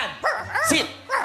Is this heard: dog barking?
yes